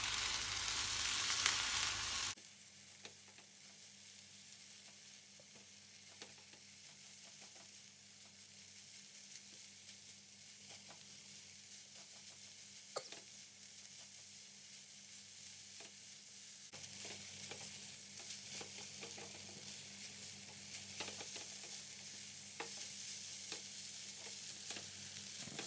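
Fried rice with cabbage and oyster sauce sizzling in a pan while being stirred, a steady close frying hiss with scraping stir strokes, running alone and unbroken.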